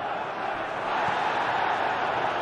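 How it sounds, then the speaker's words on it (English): A stadium crowd in the football video game PES 2021 at a Chelsea versus Borussia Dortmund Champions League match, a broad continuous roar of cheering that swells slightly midway and stays loud and even. "Crowd appreciates good football all round there."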